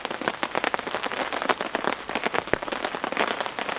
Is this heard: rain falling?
yes